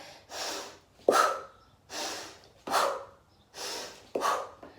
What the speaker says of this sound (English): so breath in and then push the breath out